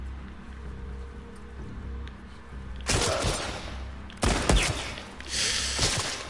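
Gunfire from the video game The Last of Us Part II crackles in two bursts of sharp shots over a low, steady ambient rumble, moderately loud, with no talking during the shots.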